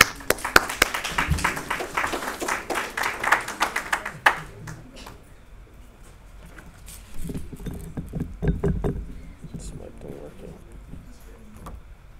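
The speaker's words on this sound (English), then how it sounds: "Give him a round of applause" Scattered applause from an audience at an evening lecture, a burst of separate claps that thins out after a few seconds, followed by shuffling, faint handling noises and a voice beginning to speak.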